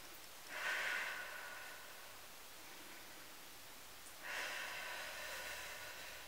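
Two forceful, breathy exhales, close and fairly loud, come a few seconds apart during a HIIT glute workout, with no talk.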